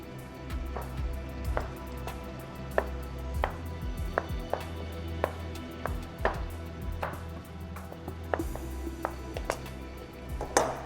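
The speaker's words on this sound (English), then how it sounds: "Just going to chop these into quarters." Washed mushrooms cut into quarters with a knife on a board: a brisk, fairly regular run of sharp close chops continuing without pause, with no one speaking.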